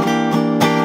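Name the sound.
guitar playing the first line chord progression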